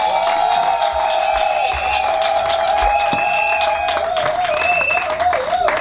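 Guests at a civil wedding ceremony applaud steadily, a dense patter of clapping from a crowd that continues throughout, with a sustained tonal hum running underneath and no speech.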